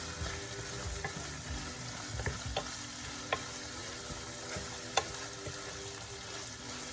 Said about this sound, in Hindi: थोड़ा सा स्टर करें इसको कि ये वाइट हो जाए।